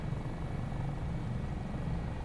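Steady, loud rotor and engine roar from an AS365 N2 Dauphin helicopter in a flight simulator, a dense continuous drone with rhythmic blade thump and no breaks, heard up close from the cockpit.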